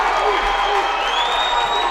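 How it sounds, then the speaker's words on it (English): Mineola fans cheer from the near side of a girls' high school basketball regional quarterfinal during a timeout, a steady, loud crowd roar with whoops and a commentator's voice over it. "you can hear the Mineola crowd on the near side"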